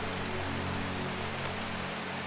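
Steady rain in the cozy, spooky video game Strange Horticulture falls as a dense, even hiss of drops with a low hum beneath, continuous and unvarying throughout, with no voices.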